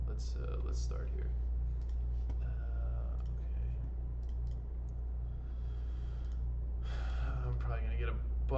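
Clicky typing on a new computer keyboard, a steady patter of keystrokes running under a constant low hum, with a person talking intermittently over it.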